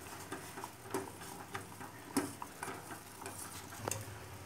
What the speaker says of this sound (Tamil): அப்படியே ஸ்பூனில் கிண்டிக்கிட்டே இருக்கணும்